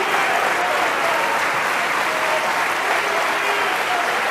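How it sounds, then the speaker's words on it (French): Steady, dense applause fills the whole stretch at an even level, celebrating the first piece of furniture being assembled, with no voices breaking through. "Eh oui, ça s'applaudit"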